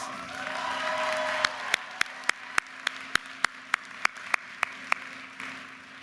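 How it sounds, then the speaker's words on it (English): Commencement audience applause swells briefly, then thins into a sparse run of single, evenly spaced sharp claps that ring out clearly over a quiet hall. "Give her a round of applause."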